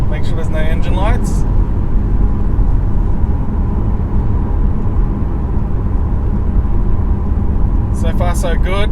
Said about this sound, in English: Just take the Wrx STi for a quick run around the block.